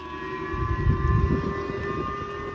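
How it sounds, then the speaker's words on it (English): A steady wailing air raid siren in South Korea drones at a distance over low rumbling background noise, sustained throughout without any voices. "Sirens going off in South Korea."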